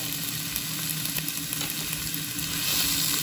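Garlic fries in a hot pan with a loud, constant sizzle that swells slightly toward the end, and no one speaking.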